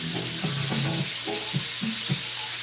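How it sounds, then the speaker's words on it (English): A salted steak sears in a hot pan, a steady hiss broken by a few short scraping or popping bursts, close and fairly loud with no voices. "I'm going to let it sear."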